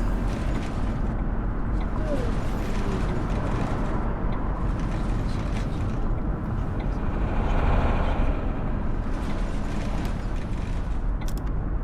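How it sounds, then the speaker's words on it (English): Road and traffic noise inside an electric Mercedes eCitaro city bus on a snowy route in The Bus game, a steady low rumble with a soft hum and occasional brief rattles, carrying on nearly alone after a single spoken word. "It's mostly road noise and traffic noise than anything else, which is strange."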